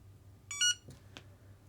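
Flysky NB4 remote control transmitter giving a short, clear electronic beep, followed by a couple of faint clicks in a quiet room.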